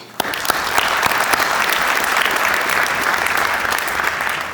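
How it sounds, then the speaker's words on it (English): A crowd at a Saint Paul firefighter academy graduation breaks into loud, sustained clapping after a sharp onset, keeping a steady dense roar of applause throughout. "round of applause for him"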